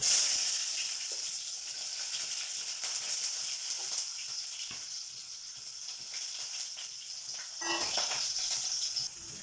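Mustard seeds and onion frying in hot oil for a homestyle Kerala fish fry, a steady close hiss and crackle running throughout with a brief louder burst near the end.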